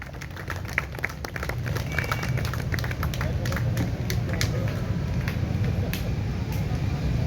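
Sustained applause from a crowd at a prize distribution ceremony for a winner, dense steady clapping throughout at a constant level, with faint voices underneath.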